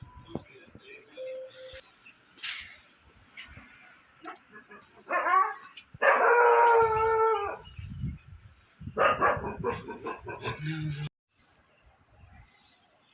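Several dogs bark and howl intermittently at close range, with chirping birds in the background and some overlapping voices.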